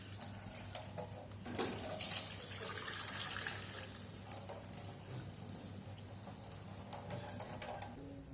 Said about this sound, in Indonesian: Cuci kacang hijau kupas sampai bersih.